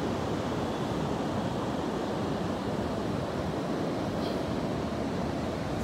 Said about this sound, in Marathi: सुंदर असा समुद्रकिनारा आपण इथे बघतोय.